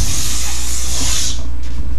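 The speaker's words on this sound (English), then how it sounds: "Or you take that spray." A loud hissing burst of spray that lasts just over a second, then cuts off and leaves a quieter background, with no talking.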